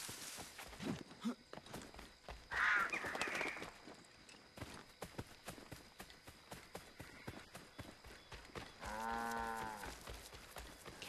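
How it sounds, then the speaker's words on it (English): Farm animal sounds in Assassin's Creed 3 with a drawn-out cow moo near the end and an earlier animal call, over rhythmic clip-clop footsteps, no talking. "Cows, but no horse."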